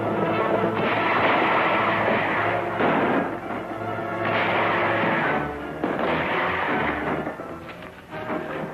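Gunfire in a 1940 western shootout rolls out as loud, booming bursts in several waves, dense and continuous with brief lulls between volleys, and no voices.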